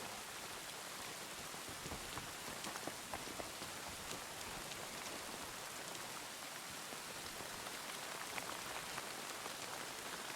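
Steady rain falls across a hard surface in the video game Kingdom Come: Deliverance II, a dense even patter of drops that continues without a break; no voices.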